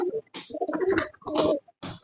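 Local pigeons cooing close by in a short run of soft, throaty calls with brief pauses, heard alone without talk.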